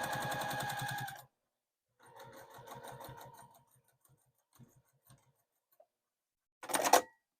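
A sewing machine back stitching the ends of an oven mitt runs in a short loud burst, then stitches in a softer rapid pattern with small clicks, ending with another brief loud run.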